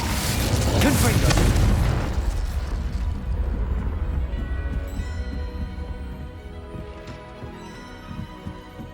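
A spell blast from the Confringo explosive curse in Hogwarts Legacy bursts loudly near the start, then a low rumbling boom and ringing tail fade slowly beneath a continuous game score.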